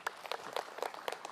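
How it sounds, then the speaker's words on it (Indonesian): A studio audience at an Islamic television talk show gives a short burst of scattered hand clapping, faint and distant with uneven rhythm. "Tepuk tangan buat Ustadz Bani."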